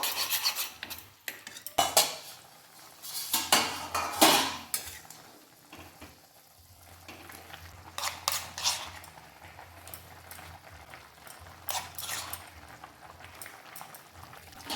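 Spice paste goes into a pot of simmering shukto. A metal spoon clinks and scrapes against the vessel in irregular bursts over a soft low bubbling, with quiet gaps between strokes.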